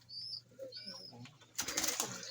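Pet pigeons coo softly after bathing, with a few low, faint murmuring calls and some thin high chirps, followed by a burst of fluttering or splashing near the end.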